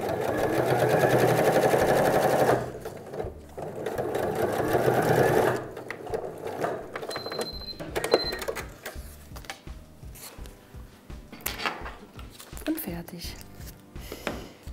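A sewing machine stitches along the open edge of a SnapPap paper-leather handle for a bread basket, with two loud, steady runs of stitching followed by quieter clattering and pauses.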